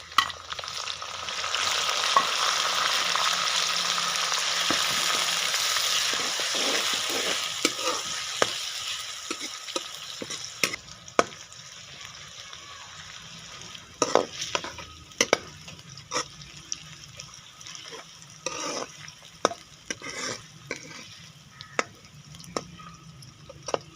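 Chopped garlic and ginger fry with browned onions for a potato and spinach dish. A dense, close sizzle fades after about ten seconds into quieter crackling, with frequent sharp clicks and scrapes from a spoon stirring the pan.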